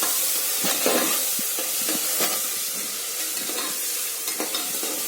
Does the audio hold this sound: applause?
no